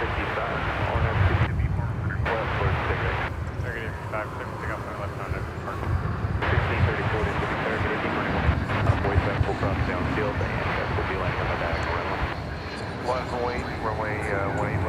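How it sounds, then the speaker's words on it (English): An Airbus A321 airliner on flight 2073 moves on runway 18 left at DFW Airport in the evening, giving a steady, loud broadband engine roar with wind rumble that holds for the whole stretch. "It's an Airbus A321, flight 2073."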